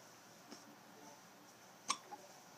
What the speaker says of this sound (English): your sister has the hiccups